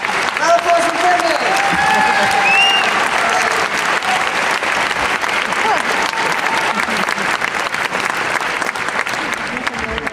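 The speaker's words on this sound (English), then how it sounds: "Round of applause for Brendan." Audience applause for a volunteer at a college magic show, loud sustained clapping from a crowd, with a few voices and cheers mixed in near the start before the clapping gradually thins.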